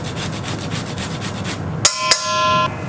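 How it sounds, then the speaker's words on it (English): Fresh ginger rubbed against a grater in a home kitchen, a steady rasping scrape with even strokes, close and moderately loud, followed by two sharp taps and a brief ringing tone. "Here we have some ginger. Just gonna grate a little part of it."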